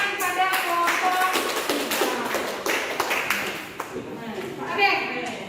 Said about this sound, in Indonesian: Ini tepuk tangan pada kelompok